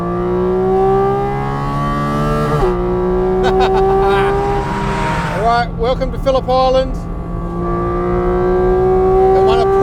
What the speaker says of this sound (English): no Cayman ever had this amount of grunt, all this noise